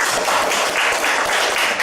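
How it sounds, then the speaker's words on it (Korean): A church congregation claps together during a Korean sermon, loud close hand claps falling into a quick, regular rhythm throughout. "여러분 한번 우리 박수 한번 쳐볼까요?"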